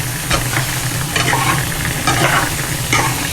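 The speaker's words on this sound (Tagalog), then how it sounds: "mamix yung sibuyas at bawang sa karne. Haluin." Onions and garlic being stirred into meat in a pan, with a continuous frying sizzle broken by several scraping, clattering stir strokes in an uneven rhythm.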